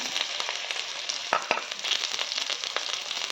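Cumin seeds, onion and asafoetida fry in hot oil with a steady close sizzle. Brief crackles and stirring scrapes sit on top of the continuous hiss.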